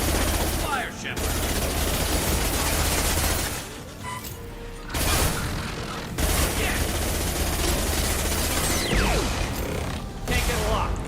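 Sustained rapid gunfire and mechanical clatter in the Mass Effect video game, loud and dense with brief lulls, mixed with game voices and effects.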